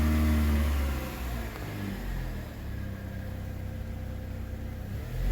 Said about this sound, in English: I'm gonna apply the parking brake, depress the gas pedal